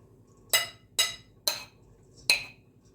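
Beaten eggs and grated hard cheese being mixed in a bowl: four crisp, evenly spaced clinks of a utensil striking the bowl, close and distinct against a quiet kitchen background.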